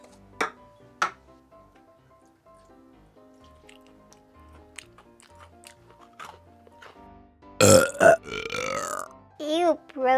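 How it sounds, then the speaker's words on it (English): A child lets out several loud, gurgling burps in quick succession near the end, after quiet background clatter and faint talk. "can you stop burping? It's stinky."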